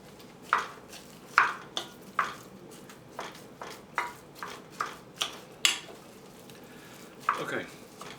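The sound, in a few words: sautéing onions and ground beef for chili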